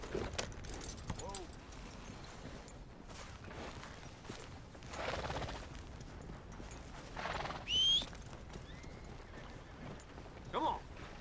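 Horse hooves clip-clop at a moderate pace alongside jingling tack in the video game Red Dead Redemption, with a couple of short whinnies breaking through near the end.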